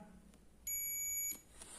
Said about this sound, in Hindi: देखिए ये इससे बीप दिया